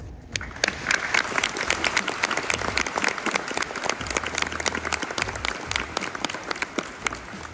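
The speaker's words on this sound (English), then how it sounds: "let's give Ukraine a really big clap" An audience at an Australian citizenship ceremony gives sustained, lively applause, many hands clapping at mid distance at steady strength throughout.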